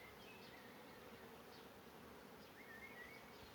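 A steady, dense hum of a colony of honeybees buzzing continuously as a young queen is introduced, with occasional individual bees droning past more loudly.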